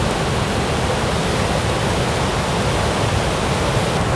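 Dense, steady roar of a jungle waterfall, broad and continuous without pauses, loud and close, with no voices over it.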